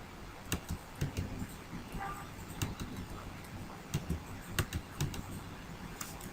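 Close-up typing on a computer keyboard, irregular clicks and key taps in quick runs, with a quiet room hum underneath.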